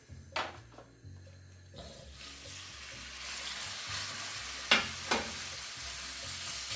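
Pork browns in hot extra virgin olive oil in a pot, a steady sizzling hiss building up, with a few louder spits and sputters near the end.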